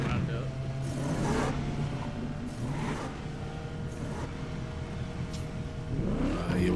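A car engine in the video game The Crew Motorfest revs and roars repeatedly in bursts, loud and close, with a voice talking over it throughout.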